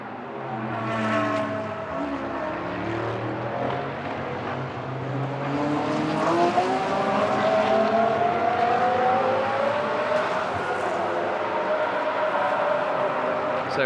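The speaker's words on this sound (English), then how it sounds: "Kevin Estre has taken over now at the wheel of that McLaren." McLaren and Porsche GT race cars run in free practice on the Moscow circuit, their engines droning and revving steadily as the cars pass at a moderate distance, with no voices over them.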